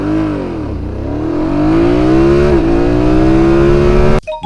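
A BMW motorcycle screams hard from a standstill toward 100 km/h, its engine pitch climbing through the gears with a brief dip at each shift, loud and close, then cutting off abruptly at the end.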